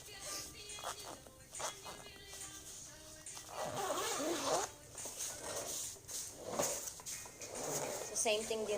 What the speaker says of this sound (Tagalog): So, i-zip nyo na rin siya dito.